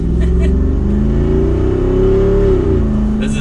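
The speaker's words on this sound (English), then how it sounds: "that exhaust note is awesome to hear" The exhaust of a 2021 Jeep Wrangler 392 Rubicon revs loudly and close by, a deep throaty V8 note that climbs in pitch and then falls back over a few seconds.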